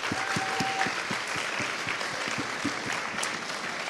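A round of applause from a school audience at a grade 11-12 spoken word event, with steady, close clapping throughout the short stretch.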